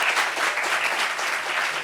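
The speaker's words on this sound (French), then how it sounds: "Ça s'applaudit." A room full of people applauding, with dense, even clapping that holds steady and close for the whole short stretch, with no pause or voices breaking through.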